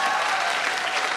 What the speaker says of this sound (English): I think we can just clap really loudly one more time